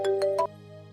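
A mobile phone ringtone plays three quick chiming notes, fairly faint and alone, then cuts off leaving a quiet room hum.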